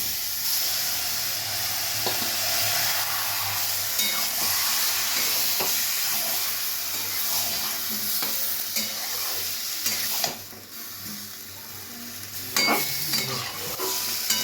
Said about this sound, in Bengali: আমি পেঁয়াজটা কিন্তু এরকম হালকা ভাজা করার